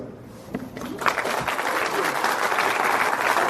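Audience applause at a live convention panel in Salt Lake City, starting thin and swelling into steady, dense clapping from a large crowd that carries on loudly to the end.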